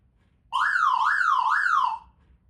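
Ambulance siren wailing in a rapid rising-and-falling sweep, loud and close, three cycles lasting about a second and a half before cutting off.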